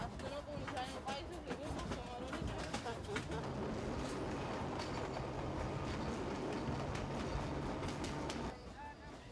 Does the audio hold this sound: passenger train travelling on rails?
yes